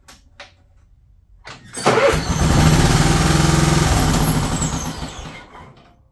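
A 2002 Scotts by John Deere lawn tractor engine cranks briefly, then catches and runs loud and close with a steady rumbling idle for several seconds before tapering off as it dies.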